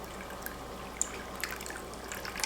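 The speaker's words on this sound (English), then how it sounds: "So I'm just going to get me a little bit of water and add it." Water from a jar goes into pears for pear jelly in a home kitchen, a faint splashy pour with a few scattered drips and clinks over low background hiss.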